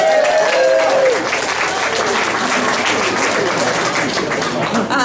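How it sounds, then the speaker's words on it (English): A roomful of people at a community school talk applauds one another, loud sustained clapping with scattered voices and cheers mixed in, tapering slightly near the end. "a quick round of applause to all of you, please"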